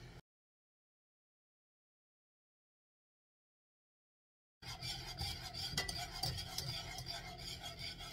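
After a long silence, a spoon scrapes and rubs steadily around a pot of caramel sauce with butter just added, a continuous close rasping stir with no talking.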